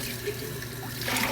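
Cool water runs steadily for a vinegar bath for canning jars, a continuous hiss and trickle with a slight swell near the end.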